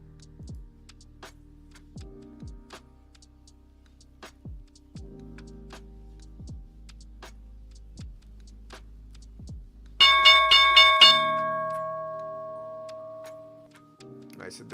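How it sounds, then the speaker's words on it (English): A stock market opening bell rings in a loud rapid burst of metallic strikes, then decays into a sustained fading tone, following a run of steady soft ticking clicks. "All right, so there's the opening bell."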